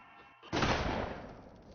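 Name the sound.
shotgun blast in a short film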